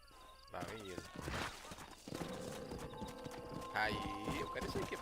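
A horse trots up with rapid clip-clop hoofbeats in a western video game, growing closer, with someone talking over it and a short whinny later.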